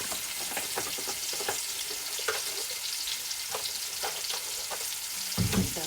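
Turkey drumsticks frying in oil, a steady dense sizzle with scattered pops and crackles throughout, closing with a brief louder clatter, with no voices.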